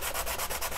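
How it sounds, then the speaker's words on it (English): Close, rapid back-and-forth strokes of 220 grit sandpaper smoothing a model railroad panel, a steady rhythmic scratchy rasp with no talking. "take your 150 sandpaper away, bring in your 220 grit. And this is just, you're gonna sand it down even more"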